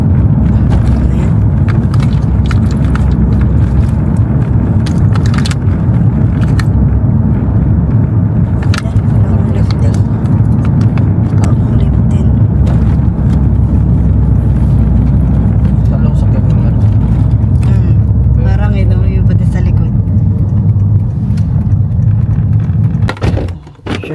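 Engine of a car idling steadily, a loud continuous low rumble throughout, with people talking over it.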